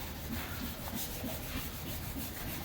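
Steady abrasive rubbing of sandpaper across a Ford Ranger's body, continuous and close, with a faint rhythmic back-and-forth stroke.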